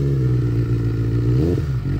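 A Benelli 600i superbike ridden on a mountain road gives a loud, close engine drone with a strong low harmonic hum, rising briefly in pitch as it revs, with some clatter.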